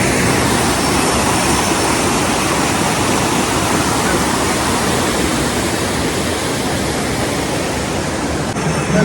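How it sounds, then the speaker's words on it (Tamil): Water rushes steadily in a loud, dense, unbroken roar, close by with no pauses, at a tourist site in Sri Lanka. "இதில் தண்ணி ஓடுறது தண்ணி ஓடி தான்"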